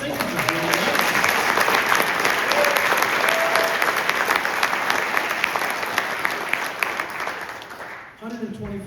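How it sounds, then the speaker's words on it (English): A concert audience at a middle school honor band event applauds the band directors with loud, sustained clapping that fades near the end as a voice comes in. "Let's give our band directors a round of applause"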